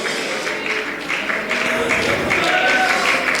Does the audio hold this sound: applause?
yes